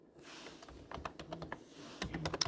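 Text typed on a computer keyboard while working in After Effects, a quick irregular run of close, light key clicks, sparse at first and then denser bursts toward the end.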